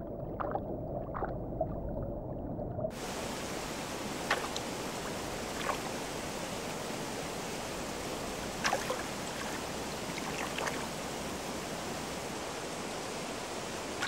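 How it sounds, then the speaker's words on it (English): A strong mountain river in the Tatras rushes in a constant broad hiss that fades in after a quiet start, with a few brief splashes and clicks over the flow and no speech. "The current in the river is strong."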